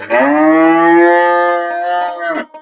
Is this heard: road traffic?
no